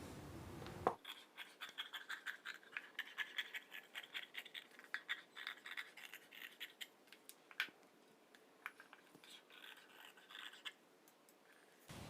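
Scissors snip and rasp through blouse fabric in a string of quick, close scratchy cuts, with a few louder clicks and light rustling of the cloth.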